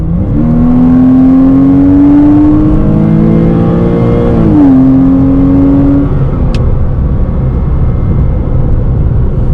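Loud, close engine note of a Porsche Cayman 987.1 with Tiptronic automatic transmission accelerating hard, the pitch climbing steadily, dipping at an automatic upshift, then climbing again before fading to a steady roar.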